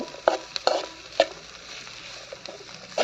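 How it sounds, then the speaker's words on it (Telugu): Small bitter gourds fry in a hot pan with a soft continuous sizzle, broken by several sharp clinks and scrapes of stirring against the pan, close and fairly quiet with no talking. "ఇప్పుడు కాకరకాయలు వేసుకుందాం"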